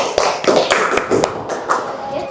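Audience in a classroom gives applause for group 1, a short burst of brisk, scattered clapping up close that tapers off, with voices murmuring underneath.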